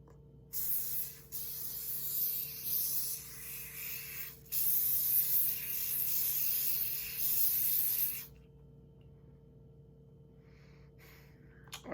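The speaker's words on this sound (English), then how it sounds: "You're just going to spray around it one time, just do like a thin layer." Aerosol spray hisses onto a shoe in several bursts, a short one then longer steady sprays with brief pauses, close and fairly loud, with a quiet hum underneath, in a garage.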